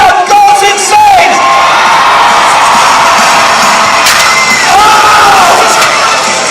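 An outdoor crowd at an extreme jousting match during a Scottish games festival cheers wildly, a loud sustained roar of shouts, whoops and high-pitched yells that swells and carries on for several seconds.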